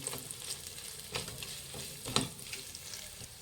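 Finely chopped green chillies sizzle and crackle in a hot pan while being stirred, with soft scraping strokes and small pops, fairly quiet and close, for a vegetable egg rice dish.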